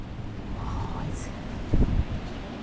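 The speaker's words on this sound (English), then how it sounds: "It's extremely windy" Strong gusty wind outdoors by a beach, a broad rumbling roar buffeting the microphone, with a brief heavier gust and a voice speaking over it.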